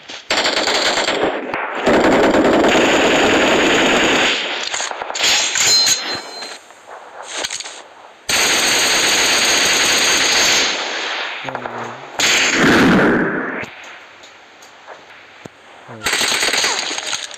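Gunfire in the mobile battle royale game PUBG Mobile: loud bursts of rapid automatic fire with metallic clangs and dings, coming in several dense volleys separated by short gaps.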